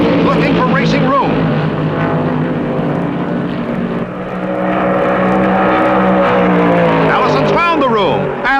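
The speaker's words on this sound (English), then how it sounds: "David Pearson gives his car a breathtaking ride down the front stretch and into first place" Loud 1972 stock cars roar through a race at Darlington Raceway, engines droning continuously with passing pitch sweeps near the start and end, under a commentator's voice.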